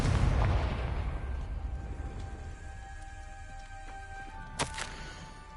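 Confringo fire spell in the video game Hogwarts Legacy: a loud booming blast at the start that rolls off into a fading rumble, followed late by a short sharp crackling burst over a quiet tonal hum.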